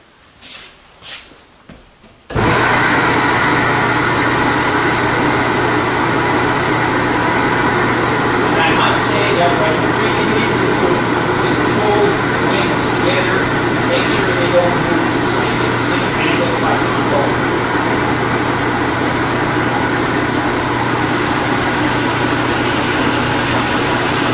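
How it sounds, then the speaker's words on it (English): An electric sander shapes wooden angel-wing ornament pieces, giving a loud, steady motor whir that starts abruptly after a couple of seconds of handling clicks and runs unbroken to the end. "I prefer using the sander"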